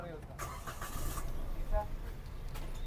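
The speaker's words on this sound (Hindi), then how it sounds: "अब हम गाड़ी स्टार्ट करेंगे।" A Suzuki Alto's engine cranks and catches, then settles into a steady low rumble close by, with a voice talking over it.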